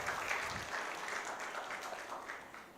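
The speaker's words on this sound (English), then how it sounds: "Ladies and gentlemen, a bigger round of applause for Engineer Abigail." A conference audience at an intellectual property event gives a brief round of applause, a soft, even wash of many hands clapping that fades slightly toward the end.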